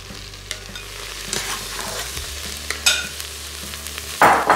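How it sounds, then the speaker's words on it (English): Beef searing in a hot pan, stirred now and then, with steady sizzling and scraping stir sounds and a louder burst of frying near the end, close and without talk. "stir it occasionally until the meat's browned all over and then remove it"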